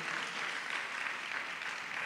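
A crowd applauds at an apostolic and prophetic summit session, dense, continuous clapping at moderate volume that holds steady throughout the short stretch.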